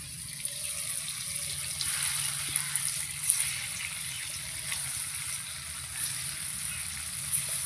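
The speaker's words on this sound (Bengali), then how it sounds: "তেল আমার গরম হয়ে গেছে, দিয়ে দেবো পনিরগুলো। এই যে পনির ভেজে নিচ্ছি" Paneer cubes frying in hot oil in a home kitchen give a steady, moderately quiet sizzling hiss that runs through the whole stretch, with a few small pops rising above it.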